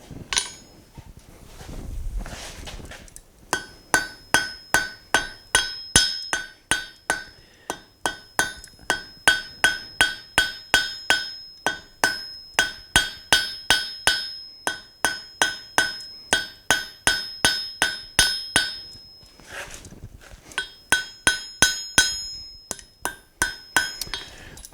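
Blacksmith hammering iron at welding heat into a short wedge on an anvil: dozens of sharp, ringing metallic blows in quick, steady rhythm, close and loud, with a couple of brief pauses and no talking.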